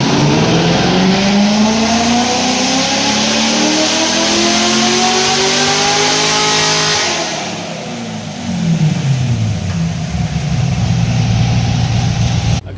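A Corvette fitted with a GPI intake manifold and new injectors revs hard on a dyno, with the engine pitch climbing steadily, then dropping off before a second rising pull, loud and close with no talk.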